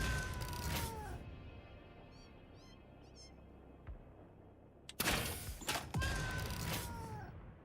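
Cats meowing in a video game, a couple of drawn-out mews near the start and again late in the clip, with quieter game ambience and faint chirps in between.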